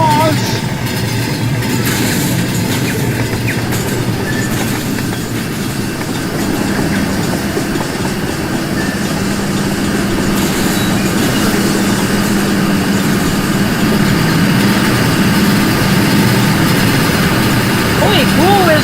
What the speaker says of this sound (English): Here comes the 86 full boxcars!